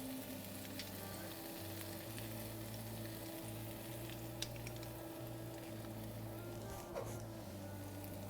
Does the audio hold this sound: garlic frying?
yes